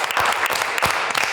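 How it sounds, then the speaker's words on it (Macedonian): Studio audience on a televised cooking competition applauding a contestant, dense clapping at close range that holds steady for about a second. "еден голем аплауз за Мован"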